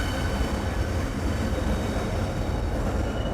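A train rolls past a multimodal transportation hub station in Richmond, a steady, even rumble and rattle that holds at one level throughout, fairly distant, with no talk over it.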